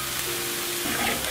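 Vegetables stir-fried over medium-low heat in a hot pan to caramelize, a dense continuous sizzle filling the short moment at close range.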